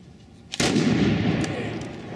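A sharp, loud gunshot cracks out at a fast draw competition in Red River, New Mexico, followed by a long reverberating echo and a faint second report.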